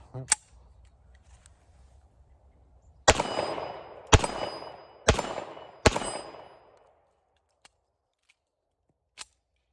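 Springfield Armory 1911-A1 Mil-Spec .45 ACP pistol fires four loud, sharp shots about a second apart, each with a brief echoing tail, after one earlier crack and a quieter tail of clicks.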